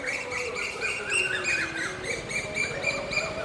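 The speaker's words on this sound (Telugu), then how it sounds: "కోయిలు చూడండి ఎంత చక్కగా" Koels calling and chirping over and over at a moderate distance, a lively run of repeated notes against faint outdoor background.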